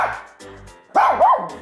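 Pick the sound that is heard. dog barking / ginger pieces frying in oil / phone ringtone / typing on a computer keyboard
dog barking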